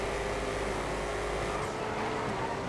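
Engine drone of a Regina 6x6 in GTA FiveM, a continuous, fairly loud steady hum with a buzzing harmonic texture and no clear revs or shifts, heard alone.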